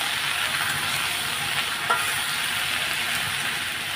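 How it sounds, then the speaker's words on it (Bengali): Potatoes fry in oil in a pan, a loud, even, continuous sizzle and hiss, close up with no voices. "এবার এটা ভাজা ভাজা করে নেবো লাল লাল করে"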